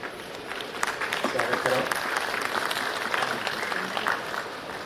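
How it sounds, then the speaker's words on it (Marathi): Audience applause welcoming a chief guest at a Jayanti function honouring Mahatma Phule and Dr. Babasaheb Ambedkar, steady clapping of a crowd with an announcer's voice over it. "आपण जोरात टाळ्या वाजून"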